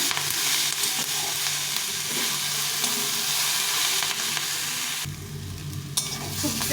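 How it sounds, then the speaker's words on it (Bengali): Cauliflower stalks fry in a pan with turmeric and no other spices, giving a steady close sizzle with stirring scrapes throughout and no voices. "পরিমাণ মতো হলুদ গুঁড়ো দিয়ে এটাকে ভালো করে ভেজে নেব"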